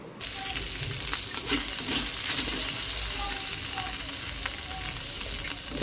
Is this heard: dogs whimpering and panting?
no